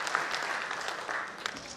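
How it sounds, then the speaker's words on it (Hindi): Brief burst of audience applause for a performer at a college talent evening, steady crowded clapping from start to finish with no speech over it. "प्लीज जोरदार तालियां हो जाए सर के लिए एक बार"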